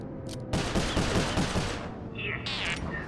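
A rapid burst of gunfire in the Sly 4 video game rattles loudly for about a second and a half, followed by whooshing and ringing game effects with a faint voice in the background.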